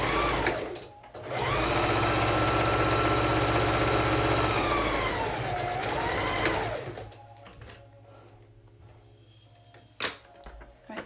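A sewing machine stitches face mask fabric in one sustained, close run, its motor whirring steadily and dipping slightly in pitch before stopping, followed by soft handling noises and clicks.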